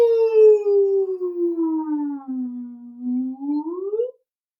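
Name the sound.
voice imitating a whale sound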